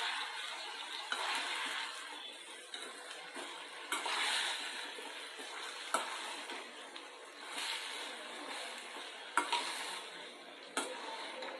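Fried cabbage manchurian is stirred in a pan over low gas, with steady soft sizzling and scraping and occasional sharp clinks of the spoon against the pan.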